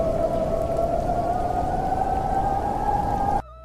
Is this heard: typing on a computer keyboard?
no